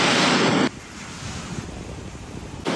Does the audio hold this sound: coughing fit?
no